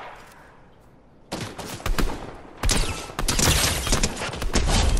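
An MK7 assault rifle fires bursts in Fortnite, loud close volleys of rapid shots after a quiet start, with overlapping gunfire continuing to the end and no speech.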